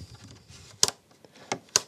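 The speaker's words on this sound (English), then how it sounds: "Oh, what a nice click." Sharp mechanical clicks of a knob on an old hi-fi record player being turned, three crisp snaps close by over faint handling noise.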